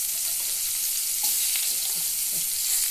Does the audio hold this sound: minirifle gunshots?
no